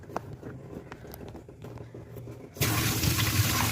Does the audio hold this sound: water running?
yes